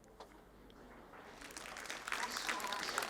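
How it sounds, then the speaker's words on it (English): Applause from a lecture audience welcoming Dr. Jose Luis Cordeiro at an energy transition roundtable, starting faint and swelling into steady clapping over the last half. "So please, a round of applause for you."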